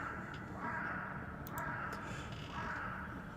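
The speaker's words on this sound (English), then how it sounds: "you can hear ravens cawing" Ravens caw repeatedly in dark woods in the Dragon Age video game, steady harsh calls over a continuous forest ambience with no talking.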